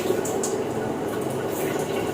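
Water running from a tap in a room, a steady, close hiss and splatter of flow that stays level through the short stretch.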